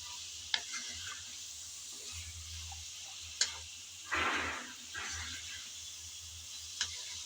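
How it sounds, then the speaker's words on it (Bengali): Carrots, yardlong beans, chicken and tomato stir-fried for tomato chicken chowmein give a soft, low sizzle with occasional scraping stirs and a few sharp utensil ticks, close but quiet and without speech. "এখন নেড়ে চেড়ে ভালোভাবে গাজর বরবটি চিকেন টমেটো একদম সব কিছুই"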